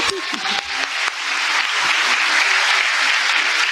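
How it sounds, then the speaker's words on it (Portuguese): A church audience breaks into sustained applause, building quickly after a brief opening and holding steady at full loudness, a dense wash of many hands clapping. "Vocês podem honrá-la aqui com a salva de palmas?"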